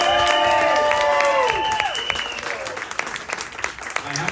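Bar audience at a drag show cheering and applauding for a DJ and karaoke host, with loud whoops and shouted voices early that give way to dense rapid clapping continuing to the end.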